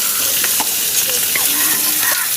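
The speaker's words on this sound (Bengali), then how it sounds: "এবার দেব পেঁয়াজ, কাঁচা লঙ্কা, টমেটো দিয়ে আমার আজকে রুই মাছের কালিয়া।" Onion, green chilli and tomato hit hot sizzling oil for a Bengali rohu fish kalia, with dried red chilli already in the pan; a loud, steady frying hiss runs throughout, broken by scraping stirs, with no talk.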